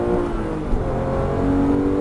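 A Porsche GT3 race car on the Nogaro circuit roars under full throttle, its engine note loud, steady and close, climbing in pitch without a break.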